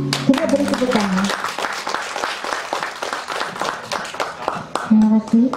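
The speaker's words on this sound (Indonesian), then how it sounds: "Kita beri tepuk tangan" Audience applause at a credit union's pre-annual members' meeting after the formal opening, a sustained round of clapping with brief tonal voices or music at the start and end.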